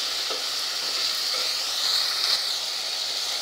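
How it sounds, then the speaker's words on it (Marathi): Onion with salt frying in hot oil in a pan, a steady close sizzle and hiss that runs without a break and swells a little toward the end. "त्यातलं मी अर्ध मीठ कांदा परतायला घालते."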